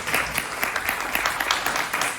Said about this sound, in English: please give them a round of applause for all their hard